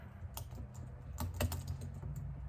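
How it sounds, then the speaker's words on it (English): Quick, uneven clicks of someone typing on a computer keyboard, steady for a couple of seconds over a low background hum, fairly close and moderately quiet. "can you hear that typing?"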